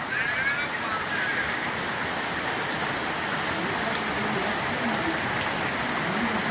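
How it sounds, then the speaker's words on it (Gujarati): Heavy monsoon rain pours down steadily in Moti Gop, Gujarat, a dense, continuous close hiss that stays loud and unbroken throughout. "એ પ્રમાણે વરસાદ આવી ગયો છે"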